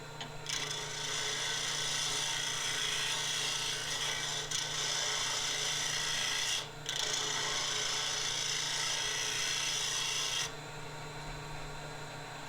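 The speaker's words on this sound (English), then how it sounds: "So flatten the glue block best we can with our gouge." A continuous close scraping hiss of a gouge shaving a wooden glue block flat, with one short pause midway, over a low steady hum.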